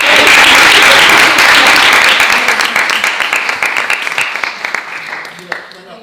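Theatre audience applauds the women who performed Celestina, a loud, dense wash of clapping that gradually thins and fades toward the end.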